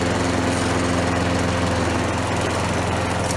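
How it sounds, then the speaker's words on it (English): A lawn mower engine runs continuously at a steady pitch, loud and close, with an unbroken buzzing drone and no voices. "I have a video here of my lawnmower"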